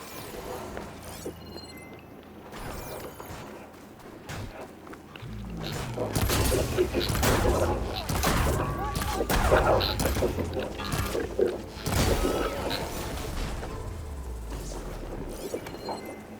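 Shooting in the video game Horizon Forbidden West: a dense run of whacks, crashes and thuds builds up and keeps going, fairly loud and layered over a busy game background.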